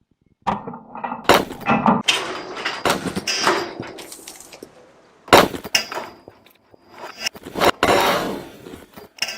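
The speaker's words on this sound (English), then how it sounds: "The impact was again pretty devastating, making mincemeat of the blue bricks and the concrete blocks." Heavy hammer and bowling ball smashing blue engineering bricks and concrete blocks, a series of loud, sharp crashing impacts with clattering, crumbling debris between them, several separate hits spread across the stretch.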